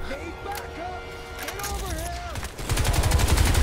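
Video game gunfire in Crysis 2 breaks out as rapid automatic bursts near the end. Before that, tonal game sounds and voices dominate, and talk continues under the shooting.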